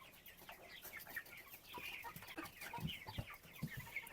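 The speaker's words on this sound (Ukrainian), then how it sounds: "Дивіться, яка гарна курка." Soft, close chicken clucking from backyard broilers with scattered short calls and scratchy rustling, quiet overall, a few louder clucks toward the end.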